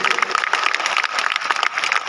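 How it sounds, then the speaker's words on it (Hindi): An audience at a business award ceremony gives a loud round of applause for a newly promoted diamond-level member, brisk clapping with individual claps standing out in a continuous patter. "दोस्त जोरदार तालियां होनी चाहिए एक बार कोना सर के लिए।"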